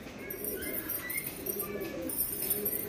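Madrasi pigeons cooing in a low, soft, continuous murmur at moderate distance, with faint chirps over a steady background hiss.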